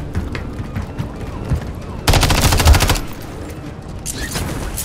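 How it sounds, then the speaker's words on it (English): Enemy gunfire in the Call of Duty Modern Warfare 3 campaign comes as a dense burst of rapid automatic shots lasting about a second. Quieter battle ambience and scattered reports surround it, with another burst at the end. "There's enemy fire."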